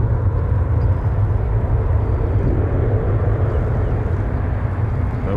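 A Jazz Embraer aircraft taxis at Toronto Pearson airport, giving a steady low engine drone that holds at an even level throughout.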